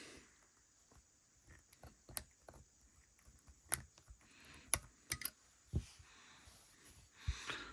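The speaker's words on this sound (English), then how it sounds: "slide your cutters in and just snip off and break the connections" Cutters snipping and breaking the cell connections on a Milwaukee M18 battery pack during a rebuild, a scattered series of sharp, close metallic clicks and snaps over quiet handling noise.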